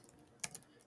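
A short burst of computer keyboard typing: a few quick, close keystrokes clustered near the middle of the clip, fairly quiet against a faint room background.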